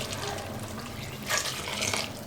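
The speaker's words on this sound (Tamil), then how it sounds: "இப்போ அதை எடுத்து ஊற்றிக்கலாம். தண்ணி ஊற்றிக்கலாம்." Hot water poured into basmati rice in a pot for chicken biryani, a steady soft splashing pour that swells briefly near the end, with no talk.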